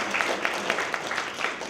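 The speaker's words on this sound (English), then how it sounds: "if you agree with that statement, give a round of applause." Applause from an audience, a steady wash of many hands clapping at moderate volume, continuous throughout.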